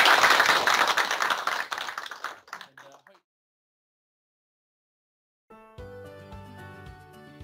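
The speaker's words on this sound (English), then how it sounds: "Give you a clap for that." An audience at an IT Pro community talk claps for roughly three seconds, the burst fading out into silence before a short musical jingle starts.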